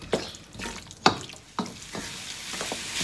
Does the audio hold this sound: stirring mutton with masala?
yes